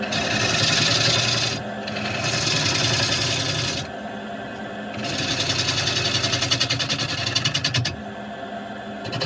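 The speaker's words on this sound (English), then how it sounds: "I'm going to go in with a scraper and it's going to make everything okay." A hand scraper rasps across an ash wood bowl to remove epoxy. It makes repeated long, loud scraping strokes with brief pauses between them, close up, with a rapid chattering texture in places and no talking.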